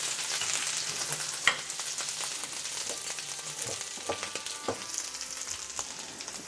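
Sauce for a prawn dish sizzles and fries in a pan on a stove, a steady crackle broken by occasional utensil clicks and small pops, heard alone without talk.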